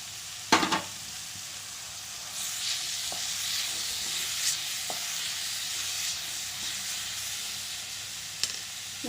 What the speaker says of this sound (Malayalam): എന്നിട്ട് നമ്മൾ ചതച്ച് വെച്ചിരിക്കുന്ന കാബേജ് ഇതിൻ്റെ കൂടെ ഇട്ട് കൊടുക്കാം.